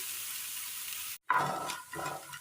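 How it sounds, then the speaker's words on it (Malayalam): Sliced onions sizzle in a pan for a Kerala-style cabbage roast, a steady frying hiss broken by one brief silence, then resuming with light stirring scrapes. "സബോള ഒന്ന് വഴറ്റിയെടുക്കാം"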